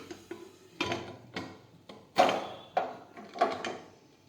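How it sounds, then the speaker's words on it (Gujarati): A pressure cooker lid is fitted and closed: about six separate metallic clunks and knocks spaced through a few seconds, close by and fairly quiet, with no voices. "હવે આપણે કુકરનું ઢાંકણ છે તે બંધ કરી દઈશું"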